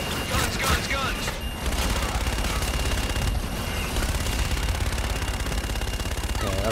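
Gun-run strafing fire in Call of Duty Infinite Warfare, a continuous heavy rattle of machine-gun fire with thuds, under radio chatter and speech.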